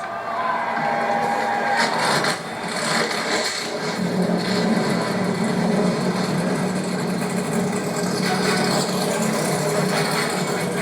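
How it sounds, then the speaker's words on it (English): Race car engines starting and idling at Atlanta Motor Speedway before a 250-mile race, a dense, loud, continuous engine rumble with crowd noise mixed in throughout. "Driver! Start your engines!"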